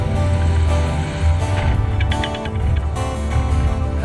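Kitfox light aircraft engine on a solo landing, a steady loud droning buzz with wind rush that swells briefly as the throttle is bumped near touchdown.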